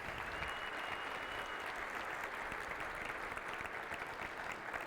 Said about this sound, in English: would you please give them a round of applause and thank them for their efforts